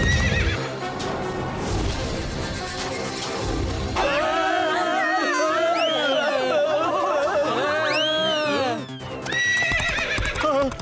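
A cartoon horse hidden in bushes gives several loud, shrill neighs and whinnies over background music, following a passage of quick clip-clopping hooves at the start.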